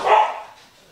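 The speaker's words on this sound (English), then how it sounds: "I've decided they're just barking at each other at this point." A single short dog bark rings out loud and close, then fades quickly.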